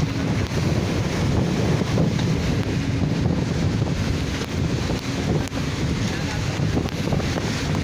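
Strong wind buffets the microphone on a boat at sea off the Philippine Rise, with waves surging in a steady, loud roar throughout.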